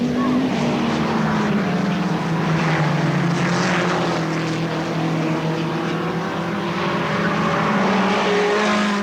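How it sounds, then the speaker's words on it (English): Supermod race cars roar past the pit at Alwalton Raceway, a continuous loud engine drone with shifting pitch as several cars sweep by close, under a steady blanket of noise. "the three supermods going past the pit"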